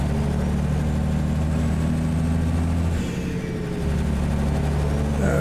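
Freightliner truck engine idling in American Truck Simulator, a steady low diesel rumble that holds constant throughout, dipping briefly for a moment near the middle before returning to the same even drone, with no talk.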